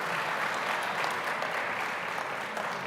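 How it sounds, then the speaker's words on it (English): Audience applause for a team at a national simulation competition, a steady wash of many hands clapping that holds evenly throughout with no voices on top. "Let's give you guys a round of applause."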